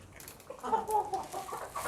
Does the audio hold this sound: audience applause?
no